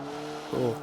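A race car in Forza Motorsport 7 gives a brief burst of engine tone that rises sharply near the end of a short moment, moderately loud with a whine on top.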